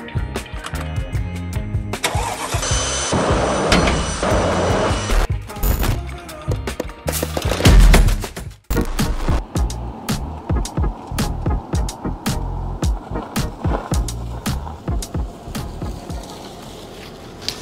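A Mercedes SL 500 V8 running on E85 ethanol is started: a whirring starter crank catches into a rough engine, which then settles into a steady idle with rapid regular firing pulses, close and fairly loud.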